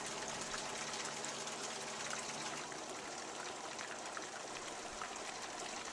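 Water flows steadily across a shaking table used to separate silver ore from crushed rock, a continuous broadband wash and trickle with a faint mechanical hum underneath, close and unbroken throughout.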